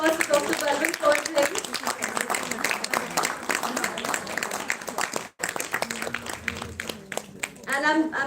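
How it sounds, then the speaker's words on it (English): Sustained clapping from an indoor event audience at CII Chandigarh honouring a speaker, a steady crackle of many hands with voices over it, briefly dipping before resuming and fading under talk. "Big round of applause for Dr. Balwant Kaur."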